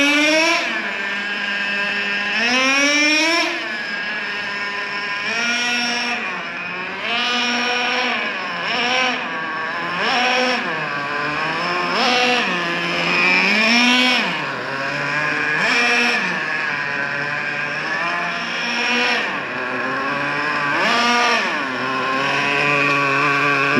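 A Traxxas Revo 3.3 nitro RC truck engine being broken in screams at around half throttle, its high whine rising and falling in repeated rev bursts throughout, loud and close with no talking.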